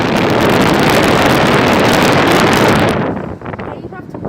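A 2011 Nordyne 2.5-ton air conditioner with a frozen suction line runs with a loud, close, broadband roar for about three seconds, then drops abruptly to a much quieter hiss.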